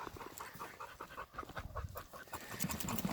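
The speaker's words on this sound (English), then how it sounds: "Good puppy dog." A dog pants rapidly and close up after fetching a shed antler on a bighorn sheep shed hunt, quick rhythmic breaths with faint rustling.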